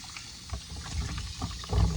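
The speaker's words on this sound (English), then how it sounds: "let me bring you guys with me so you guys can see me rinse my papitas" Potatoes being rinsed under running water: a splashing, sloshing wash close by, with handling bumps growing louder toward the end of the short stretch.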